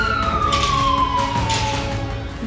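A SAMU basic-unit ambulance in Limeira, Brazil, responds to a call with its siren wailing in a long, falling sweep, heard from a moderate distance over a steady traffic rumble, with no talking.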